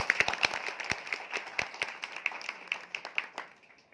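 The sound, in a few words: audience applause in a hall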